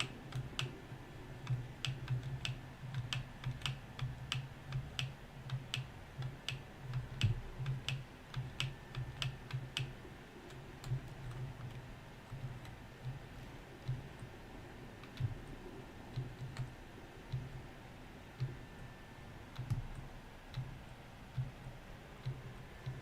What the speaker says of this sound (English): if you're hearing that loud clicking in the background, that is my D key